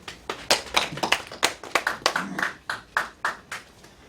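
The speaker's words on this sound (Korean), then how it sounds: "박수 한번 주십시오." Sparse audience clapping at a Korean church leadership election speech event, with distinct, separated hand claps in an uneven rhythm, fairly close and clear, no talk over them.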